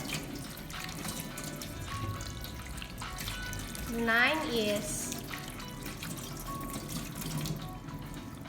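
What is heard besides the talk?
tap water running while rinsing hands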